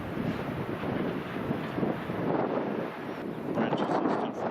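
Strong, extreme wind roars through tree branches outdoors, a loud, continuous rushing blast that swells in gusts across the whole stretch without easing.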